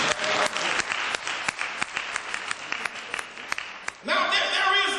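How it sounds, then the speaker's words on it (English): A church congregation claps hands together in a steady run of sharp, rhythmic claps, close and fairly loud, building into a denser burst of applause at the end, with voices mixed in. "Come on, clap your hands."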